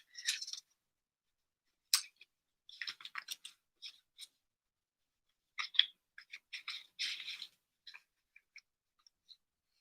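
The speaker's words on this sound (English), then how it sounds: "I'm going to shuffle the cards." A deck of cards is shuffled in short, crisp riffling bursts separated by pauses, quiet and close, with a few faint isolated ticks near the end.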